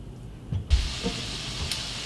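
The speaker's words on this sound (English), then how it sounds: "As you can see, the pan is sizzling." A steady, soft sizzle of chicken frying in a hot pan kicks in abruptly after a few low knocks and keeps hissing evenly.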